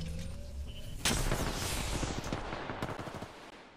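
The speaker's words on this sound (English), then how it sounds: "Getting shot at." Rapid automatic gunfire in a shooter video game crackles in dense, loud bursts, with a sharp volley kicking in after a second and continuing in quick rattling shots.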